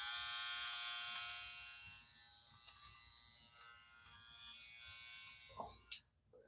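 Electric trimmer fitted with a nose hair attachment buzzes with a high, steady whine, running close and loud, fading slightly, then cutting off near the end with brief handling noise.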